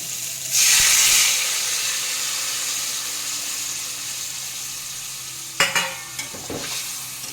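Water hits sizzling fish curry masala in a pan, a loud hissing surge that gradually settles into a steady sizzle, then sharp stirring scrapes near the end.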